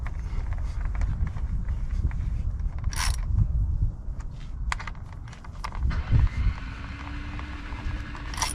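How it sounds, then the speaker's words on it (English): Keeper bolts being tightened on a Yamaha outboard engine, with close ratchet clicks and metallic taps over a steady low background rumble, plus a couple of sharper clanks. "Last thing to do is tighten these keeper bolts up."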